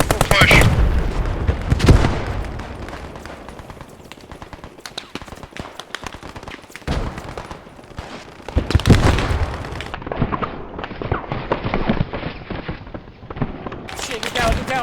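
Automatic machine gun fire in the World War II shooter Post Scriptum, loud bursts of rapid shots with nearby explosions and a busy battlefield din, under a player's shouted voice.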